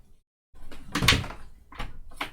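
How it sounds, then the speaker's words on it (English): A door closes nearby with a muffled thump, followed by a couple of softer knocks and rustles in a quiet room. "Now, the door is closed."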